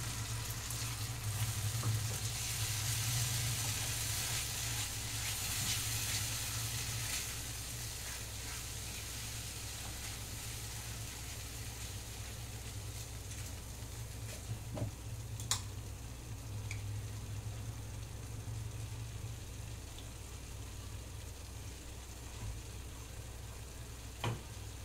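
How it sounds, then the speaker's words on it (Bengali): Spiced yogurt masala with cashew paste frying in a pan, a low steady sizzle with occasional light ticks and spatula scrapes, quiet and continuous with no speech. "কাজু দিয়ে আবারও একটু কষে নেব"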